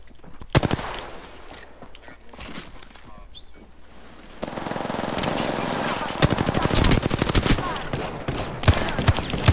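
Gunfire in an Apex Legends match: sharp single shots, then dense rapid automatic bursts crackling louder and nearer through the second half, with players' voices talking under the shooting.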